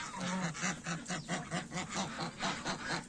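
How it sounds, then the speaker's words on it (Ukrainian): Crested ducks quack at evening feeding on grass, a rapid rhythmic series of nasal quacks and honks, close and fairly loud, with several birds calling over one another. "Починаємо з наших чубатих качок"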